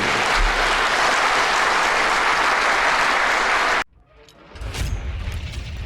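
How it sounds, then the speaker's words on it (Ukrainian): Studio audience on a Russian talk show applauding loudly, a dense roaring wash of clapping that cuts off abruptly, followed by quieter murmuring room noise. "Вони дуже гучно аплодують, підтримують його"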